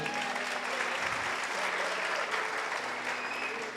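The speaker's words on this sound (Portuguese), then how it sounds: "Dá uma salva de palmas para você." Congregation applause at a church service, steady dense clapping from a crowd, moderately loud and unbroken, with a faint hum of voices mixed in beneath.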